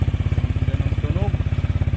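A Honda Click 125 scooter fitted with a Hero power pipe exhaust idles close by, putting out a steady, loud low pulsing with an even rhythm and light mechanical clatter, while a voice speaks briefly over it.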